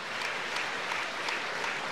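A crowd at a boxing match applauds in a dense, continuous roar of clapping, fairly distant and uniform throughout.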